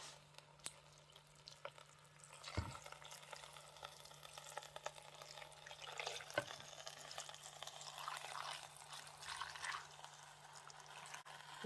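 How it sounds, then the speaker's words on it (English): Stock pouring into a cooking pot, a faint, steady liquid splash and trickle building over several seconds, quiet and close with a low background hum. "on top of that I'm just going to pour on the stock."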